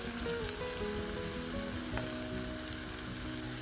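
Tomatoes and onions sauté with masala in a hot pan, giving a steady, close sizzle and crackle that continues evenly throughout with no talking.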